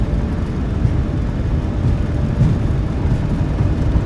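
Jet engines of a PMDG 737-800 in a flight simulator, spooled up to takeoff power, a steady low roar and whir heard from the cabin, continuous with no talking.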